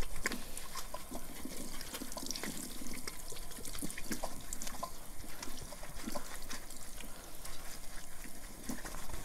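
Hot water runs steadily from a tap for several seconds while a leather glove stained with brake fluid is scrubbed and washed with soap, a continuous close splashing hiss with no talk.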